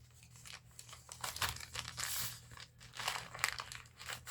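A paper bag is folded and crinkled up close, with continuous crackling rustles and sharp crunchy surges; no talk.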